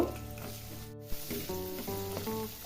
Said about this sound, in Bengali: পেঁয়াজটা এবার আমি একটু ভেজে নিব।